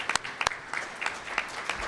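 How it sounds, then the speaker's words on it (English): Sparse clapping at a legislative conference as mayors are honored, a handful of sharp, scattered hand claps with gaps between them, fairly close and thin rather than a full ovation. "So once again, please give him a round of applause."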